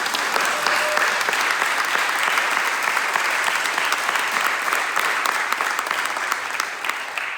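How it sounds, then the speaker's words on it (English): An audience at a business expansion update meeting breaks into steady, full applause that holds at an even level for several seconds before tapering slightly. "Let's give these guys a round of applause."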